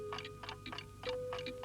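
A room full of clocks ticks steadily in a 1969 children's animated episode, with soft regular ticks and a faint tone in the background, no one speaking.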